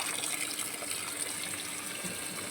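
Water gushes steadily over sand held in a bag being washed, a soft continuous splashing wash that stays faint and even throughout.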